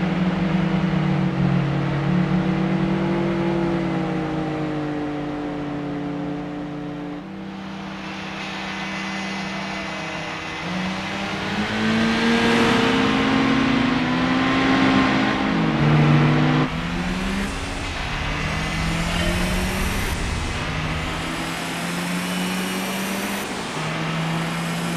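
A Mazda MX-5 engine drones and revs through a Gran Turismo 4 race at Twilight Motegi, rising and falling steadily through gear shifts, loud and continuous with no talking.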